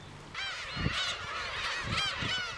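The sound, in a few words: young seagulls calling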